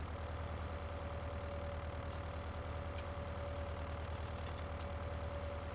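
A tractor driving in Farming Simulator 19 gives a steady, low engine drone with a faint constant tone, quiet and unbroken throughout, with no voices.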